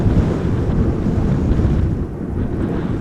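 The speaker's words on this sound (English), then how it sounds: "Now the wind is definitely picking up a little bit every now and then." Steady wind buffeting a microphone outdoors at Amsterdam Schiphol Airport, a continuous low rumbling roar that swells in gusts and eases slightly near the end, loud and close with no voices.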